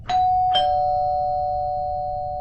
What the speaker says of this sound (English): The doorbell sounds.